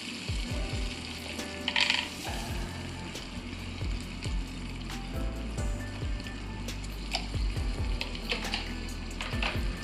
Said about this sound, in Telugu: సో నేను కొంచెం సాల్ట్ కూడా వేసుకొని ఒకసారి బాగా ఫ్రై చేసుకుంటున్నాను.